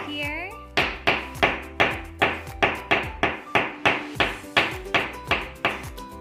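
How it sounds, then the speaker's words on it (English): A hammer taps steadily on a leaf to press out its green colour for a leaf print, about a dozen sharp, evenly spaced knocks up close, each with a short ringing decay. "you can kind of like hammer the leaf"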